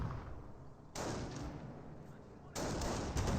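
Volksgrenadier infantry rifles fire in Company of Heroes 1, a dense, continuous crackle of gunfire that jumps louder in two sudden steps, with no voices.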